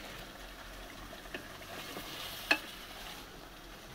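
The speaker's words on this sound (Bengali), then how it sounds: "মাছগুলো কষাই নিচ্ছে প্রথমে।" Fish sautéing in a pan with oil, a soft steady frying sizzle throughout, a brief clatter of a utensil midway, no voices.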